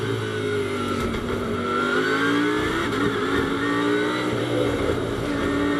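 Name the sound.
Lamborghini GT race car engine, onboard at Paul Ricard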